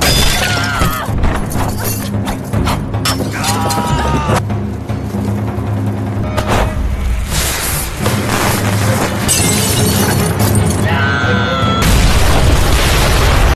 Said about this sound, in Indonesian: ledakan bom barusan